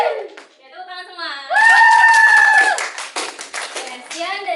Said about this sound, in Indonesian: tepuk tangan semua